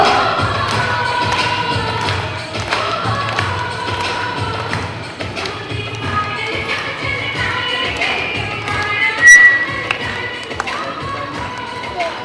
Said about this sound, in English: All of you clap.